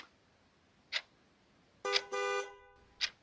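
A car horn gives two toots, one short and one drawn out, amid sharp clicks from a newly arrived car pulling up outside, fairly close and with no voices over it.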